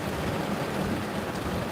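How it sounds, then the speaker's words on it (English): Heavy rain falls in Texas, a dense, steady hiss that fills the whole stretch evenly, near and moderately loud with no voices. "It's starting to rain pretty hard"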